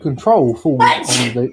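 A single sneeze bursts out amid nearby speech, with people talking before and after it.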